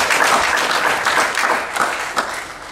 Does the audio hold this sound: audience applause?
yes